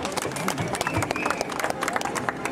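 Protesters at a teachers' street demonstration in Paris applaud in a thick patter of clapping mixed with crowd noise and overlapping voices, at moderate distance.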